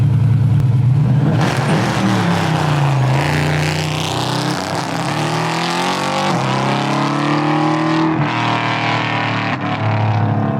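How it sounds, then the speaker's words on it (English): A Camaro GT4.R race car doing a burnout on track, its engine roaring loud and close, revs rising and falling with a strained, rasping tone through the whole stretch, no talk. "You're about to see what a proper burnout in this race car Camaro"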